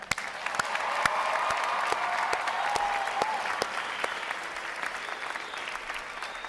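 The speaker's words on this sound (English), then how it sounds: "How about a round of applause for them as well?" Sustained applause from a large crowd at a U.S. Navy recruit boot camp graduation ceremony, honoring the graduating divisions; steady, dense clapping holds for several seconds before easing slightly.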